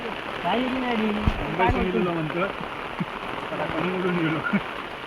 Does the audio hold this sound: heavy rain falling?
yes